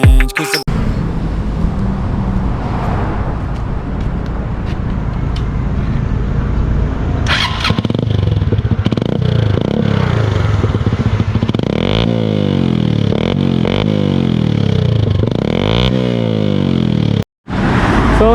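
A modified Honda TMX 125 Alpha tracker-concept motorcycle engine runs loud and close, idling with a rough, lumpy beat before revving in repeated rising and falling blips, then a brief cut near the end.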